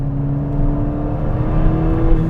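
A track-upgraded Ford Fiesta ST drones loudly and steadily as it accelerates through a corner, engine note holding firm and slightly rising, heard from inside the car with no talk.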